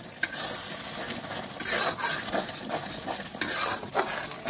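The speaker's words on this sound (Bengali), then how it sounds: "তো এটা কিন্তু আমি ভালো করে নাড়িয়ে চাড়িয়ে নেবো।" Duck meat in oil is stirred in a pan, with close scraping and stirring strokes over a steady sizzle of frying and occasional sharp clinks of the utensil against the pan.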